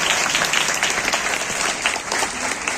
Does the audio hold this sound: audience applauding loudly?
yes